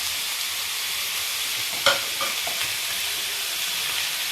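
Chicken and three chopped onions in a pan, a steady, bright sizzle of frying food with a few clinks and stirring scrapes near the middle, no talking.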